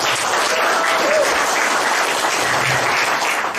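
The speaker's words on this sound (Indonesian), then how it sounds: "Boleh tepuk tangan." A farming seminar audience gives loud, sustained applause, a dense roar of many hands clapping close by that stays steady throughout.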